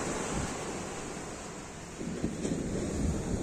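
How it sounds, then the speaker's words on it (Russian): Ocean surf in Sri Lanka washes in a steady hiss, with a wave breaking and swelling louder partway through, mixed with some wind. "Это же океан, мать его!"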